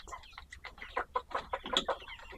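Egg-laying hens cluck in a quick run of short, choppy bursts, fairly faint and close by, with no talking over them.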